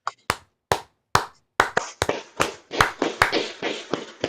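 A couple of people clapping for reaching 1,000 subscribers, starting as a few sharp separate claps and building into quicker, uneven applause, close and loud with no speech.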